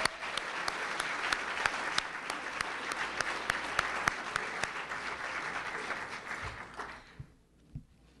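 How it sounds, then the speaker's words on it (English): An audience at a telecommunicators' banquet bursts into steady applause, dense clapping with a few sharper claps standing out, then it thins and dies away with a couple of last stray claps near the end. "give them a round of applause as well"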